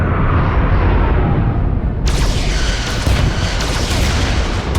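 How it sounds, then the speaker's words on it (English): Photon torpedoes fire and explode in the Star Trek Resurgence video game, giving heavy booming blasts over a loud rumbling bed, with a sharp new burst partway through and no speech. "Fire photon torpedoes!"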